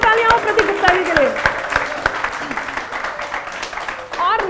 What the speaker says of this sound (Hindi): जोरदार तालियां हो प्रतीक गुप्ता जी के लिए